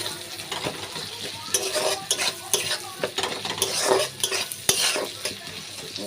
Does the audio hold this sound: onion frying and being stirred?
yes